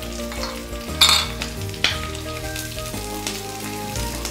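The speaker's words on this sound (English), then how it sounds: "I just throw in the petaled onions. Along with it, I throw in the green chillies." Petal-cut onions and green chillies sizzle in a pan for a stir-fried capsicum and potato dish, a steady close frying hiss with a couple of sharp clinks as they are tossed; no talking.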